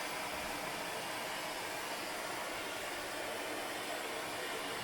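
Heat gun blowing hot air onto an acrylic sheet to soften it for bending: a steady, even rush of airflow hiss with a faint motor whine, continuous and unbroken throughout.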